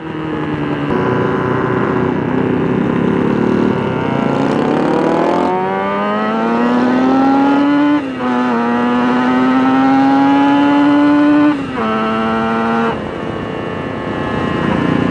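A Griffin Custom TA125 tribute motorcycle winds out to very high RPM, its engine pitch climbing through repeated rising sweeps with brief dips between gear changes, loud and close throughout.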